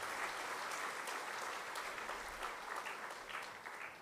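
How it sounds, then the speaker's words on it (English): A round of applause at a university engineering faculty inauguration ceremony after a performance: dense, even clapping from a large audience, moderately distant and continuous without a break. "I would like to give them another round of applause for their wonderful performance"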